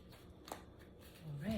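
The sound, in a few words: shuffling tarot cards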